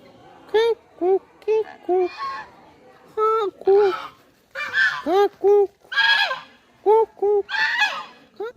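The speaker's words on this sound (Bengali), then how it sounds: "রাজহাঁস।" Geese at an old temple compound honk in loud, close bursts, several birds calling in quick irregular volleys with short gaps between.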